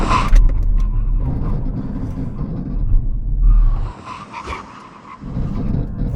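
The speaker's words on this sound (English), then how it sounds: "let's do the brake test" Hot hatchbacks, including a BMW M135i, Mercedes-AMG A35, Audi S3 and VW Golf R, emergency-brake from 70 with loud tire skidding and rumbling road noise, easing briefly before the screech returns.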